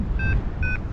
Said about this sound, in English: it is beeping.